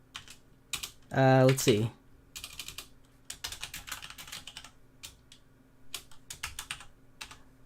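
Quick bursts of clicking keys on a computer keyboard come in short runs, close by, with someone talking briefly and a loud tonal sound near the start.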